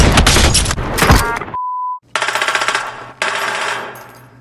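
Assault rifle fire in a video game: dense rapid bursts fill the first second and a half, then a beep tone, then more loud sustained automatic fire with repeated sharp reports to the end.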